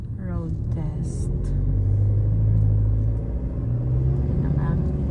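A car labors uphill on a road test, its engine a deep continuous rumble that swells in the middle, with people talking over it inside the cabin.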